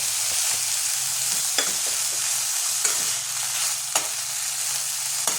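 Mustard flower bharta with salt, green chilli and turmeric cooks down in a pan under a steady soft sizzle, punctuated by a few sharp stirring scrapes, close up and without voices.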